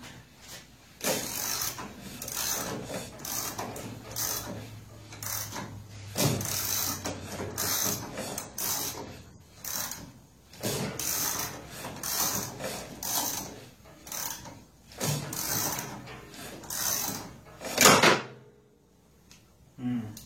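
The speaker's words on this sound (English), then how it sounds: "If that pulls over that way, it'll ratchet, right?" A mechanism is pulled over by hand, giving repeated clicking ratchet bursts with short pauses between them, some louder knocks, and brief talk in between.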